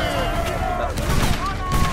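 Rapid gunfire in an online multiplayer shooter game, a dense loud stream of shots that overlaps continuous background game noise.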